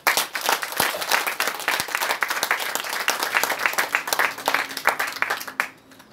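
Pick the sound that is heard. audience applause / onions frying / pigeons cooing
audience applause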